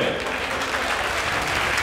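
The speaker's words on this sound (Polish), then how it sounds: "Wielkie brawo dla drużyny!" A crowd at a Siarka Tarnobrzeg football match event applauds the team, with dense, continuous clapping close and loud throughout.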